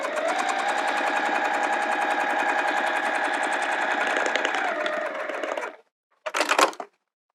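Sewing machine stitching clear TPU vinyl on a zipper pouch, a steady rapid needle chatter running for several seconds, stopping, then a brief burst of stitching after a short pause.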